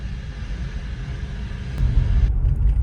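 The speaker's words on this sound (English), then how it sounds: "Traffic jam." Road traffic near a golf course on a rainy day: a steady, close rumble of cars passing that swells louder toward the end.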